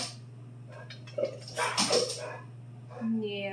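A dog barks and whimpers in short yips and whines in a home setting, fairly close, with a person talking over and between the sounds.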